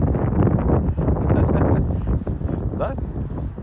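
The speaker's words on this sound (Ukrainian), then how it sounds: "Вітер, великий вітер і висота." Strong wind buffets the microphone high on a long suspension bridge in Germany, 116 metres above the ground, making a loud, continuous roaring rumble that gusts unevenly throughout.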